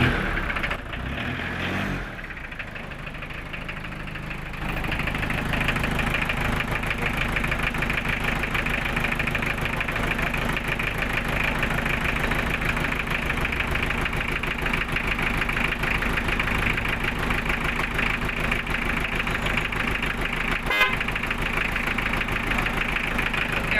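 An owner-type Jeep Wrangler with its top down idles just after starting, its engine settling into a steady, close, even rumble that runs throughout with no talk.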